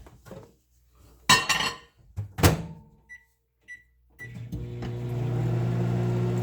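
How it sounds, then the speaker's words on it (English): A microwave hums steadily at close range after a few clinks and a door clunk, with two short beeps just before it starts. "I'm just going to stick this in the microwave for a couple seconds"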